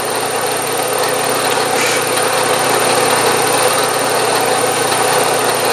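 A milling machine cutting a 1/8 inch slot with an end mill during a horizontal steam engine build, a loud, continuous machining drone with no break.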